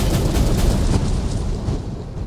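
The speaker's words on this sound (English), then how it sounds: "You ready to watch the explosion?" A big ore-blasting charge goes off in the mining game Out of Ore, a loud, broad rumbling roar that sustains across the whole moment and then slowly eases off without dying away.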